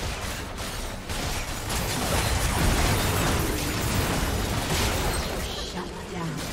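A turret blowing up in League of Legends gameplay, heard as a loud, sustained rumbling blast over dense game noise, with an announcer voice nearby.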